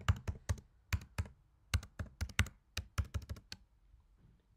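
Keystrokes on a computer keyboard as a password is typed during a login, a quick run of close, crisp taps in uneven bursts with a brief pause near the end.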